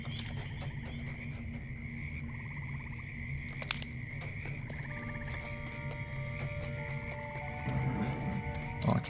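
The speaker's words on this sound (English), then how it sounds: "Okay, some toads in here." Toads croaking in a swamp in the video game LOTRO, repeated low croaks over a steady droning ambience, with a faint wet splash toward the end.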